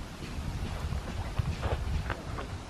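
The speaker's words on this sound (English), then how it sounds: "it's a little windy here" Wind buffets the microphone in a low, steady rumble with soft gusts, no voices present.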